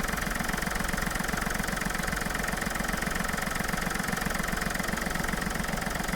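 A 2012 Maruti Suzuki Beat diesel car engine idles steadily with a close, even low-frequency chug and constant vibration, heard alone with no talk.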